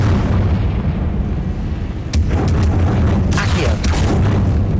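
Fiery Confringo spell explosion in the video game Hogwarts Legacy, a booming blast followed by several sharp crackling bursts over a constant low rumble of game ambience.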